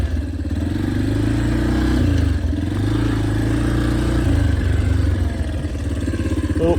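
An ATV engine runs steadily outdoors in a backyard, a loud, close, low rumbling idle with a rough throbbing pulse and a slight rise in pitch partway through.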